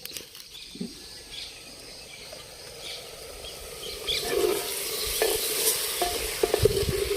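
Paneer, vegetables and masala fry in a pan at an outdoor village cooking spot, a sizzle with stirring scrapes that grows louder and busier over time, faint birds in the background, no voices.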